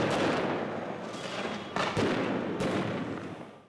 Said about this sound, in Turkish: Tüfek ve tabancalarında kullanıldığı bu görüntüler uzun süre devam etti.